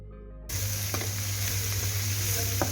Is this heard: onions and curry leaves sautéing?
yes